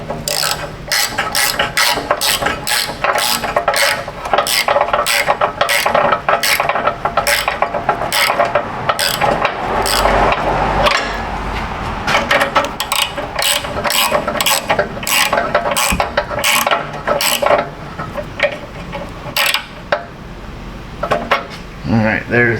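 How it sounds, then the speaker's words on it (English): Rapid ratchet clicks from a 1/2-inch drive ratchet spinning wheel studs in with a stud installer, loud and close, in steady bursts with brief pauses, metallic clinks mixed in, and no talk. "This is a stud installer. We'll get a 1/2-inch drive."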